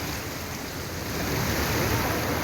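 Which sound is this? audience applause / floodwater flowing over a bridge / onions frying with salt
floodwater flowing over a bridge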